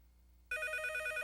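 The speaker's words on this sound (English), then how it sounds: "don't answer the phone. Let's just don't answer the phone." A telephone bell starts ringing suddenly after half a second of quiet and keeps going as a loud, fast, warbling trill to the end.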